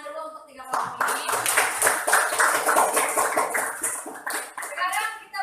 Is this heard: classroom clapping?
yes